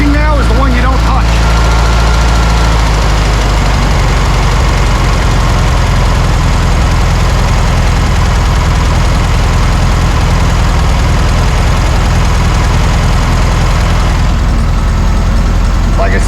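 A 1972 VW Karmann Ghia engine idles steadily right after a clutch and rear main seal repair, a loud, continuous low rumble close to the car.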